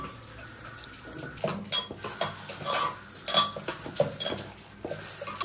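Masoor lentil paste batter, beaten with salt, is mixed by hand with pumpkin flowers in a bowl for fritters. Close, soft wet squelches and scattered clinks of bowl and utensils come in uneven bursts, with no talking.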